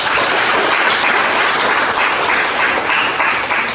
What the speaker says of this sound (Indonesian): Baik, tepuk tangan untuk kelompok.